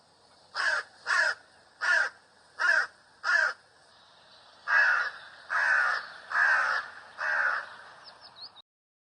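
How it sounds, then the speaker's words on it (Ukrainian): Hooded crow cawing in a series of ten harsh calls, five short evenly spaced caws followed by five longer drawn-out ones, loud and close with no other sound. "Ворона. А ще можна сказати гава."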